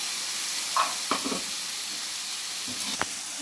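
Tomato paste sizzling with chilli masala in a hot pan, a steady broad frying hiss with a few soft clinks and stirring scrapes, close and without talk.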